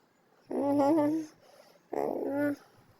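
Dogs give two drawn-out whimpering growls close by, each lasting just over half a second, separated by a short quiet gap.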